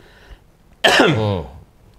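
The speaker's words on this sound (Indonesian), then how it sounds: "Batuk gua." A single harsh cough bursts out close to the microphone, rough and throaty, lasting under a second before quiet returns.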